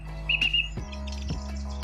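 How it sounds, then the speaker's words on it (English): A song thrush sings outdoors in spring, with a bright whistled phrase and short chirping notes over a low steady background hum. "The songthrush right now is going ham."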